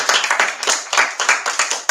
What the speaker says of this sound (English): let's give one more round of applause for our fantastic guest this evening